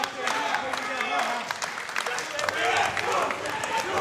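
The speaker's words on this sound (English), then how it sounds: "You can hear this crowd coming alive." A wrestling crowd at an NWA event claps and cheers in a lively, continuous wash of applause, with a commentator talking over it.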